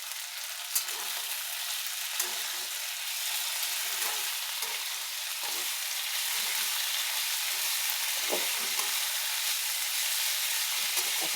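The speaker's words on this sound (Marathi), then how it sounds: "कढीपत्ता आहे ना जरा असा कडक होऊ द्यायचा आहे चांगला" Curry leaves and chopped coriander fry for a chutney, a steady crackling sizzle of hot oil running throughout with occasional sharper pops and stirring scrapes, close and fairly loud.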